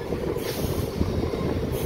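A DEMU local train at Manoharabad junction rumbles steadily and fairly loud throughout, a continuous low rolling drone with no talk over it.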